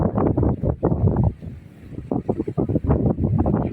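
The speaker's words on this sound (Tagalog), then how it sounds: "Lakas ng hangin." Strong seaside gusts buffet the microphone with heavy, rumbling bursts, briefly easing before surging again, loud and continuous.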